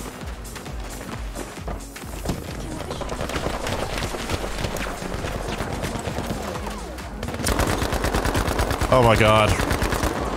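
Gunfire in the video game Battlefield V: rapid machine-gun bursts and shots rattle continuously, growing louder and denser in the second half, with a player exclaiming over them.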